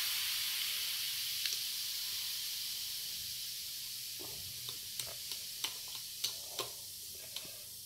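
Eno fruit salt dropped into water for cleaning a gas burner gives a soft, steady fizzing hiss with scattered small pops and crackles growing more frequent, close and fairly quiet, without speech.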